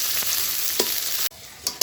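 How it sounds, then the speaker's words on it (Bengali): Chopped onions fry in a wok over a clay stove on a rooftop, giving a loud, dense, continuous sizzle with a few stirring scrapes, then a short pause. "এবার কড়াইতে কুচানো পেঁয়াজগুলো দেওয়া হয়ে গেছে, এগুলো লাল লাল ভাজা হয়ে আসে"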